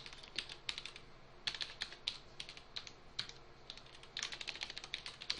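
Quiet clicking keystrokes on a computer keyboard come in uneven bursts of rapid typing with short pauses, close-miked and faint, without talk.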